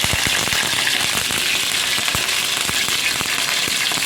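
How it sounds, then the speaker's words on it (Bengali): Chicken pieces fry in hot oil with a steady loud sizzle and scattered crackling pops, continuous and close, with no talk. "চিকেনগুলো তেলের মধ্যে ছেড়ে দিয়েছি। এখন চিকেনগুলো ভালো করে ভেজে নেব।"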